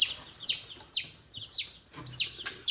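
A chicken being held clucks in a rapid series of about five short, rising squawks, close and fairly loud with brief pauses between them and no talking.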